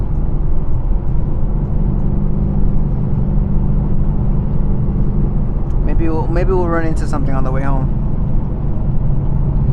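A Whipple-supercharged Mustang S650 with a 6-speed drives along, its engine a steady, loud low rumble throughout, with someone speaking briefly over it near the end.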